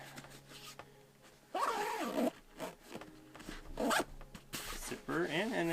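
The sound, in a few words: zipper closing on 5.11 Rush 12 backpack laptop compartment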